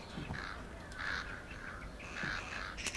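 Crows caw repeatedly in the stealth game Thief, hoarse calls coming in several clustered bursts at moderate distance over a quiet ambient hiss.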